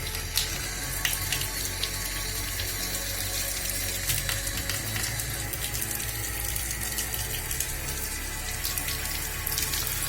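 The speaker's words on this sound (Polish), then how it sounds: "pod bieżącą wodą" Tap water runs steadily into a sink while in-vitro plants are rinsed under the stream, a loud continuous gushing splash with no voices.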